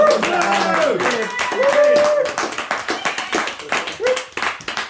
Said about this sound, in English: Please, round of applause for this one